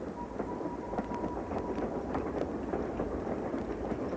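A passenger train crossing Canada in 1990, heard from inside as a steady rolling rumble with rhythmic clickety-clack of wheels over rail joints and a brief faint tone, continuous and moderately loud.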